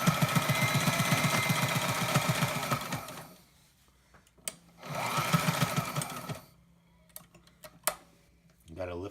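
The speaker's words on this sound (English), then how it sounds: "let's do another zigzag stitch" A Sailrite LSZ-1 sewing machine stitches a zigzag in two loud, fast bursts of rapid needle clatter, separated by quiet pauses with a few clicks and knocks.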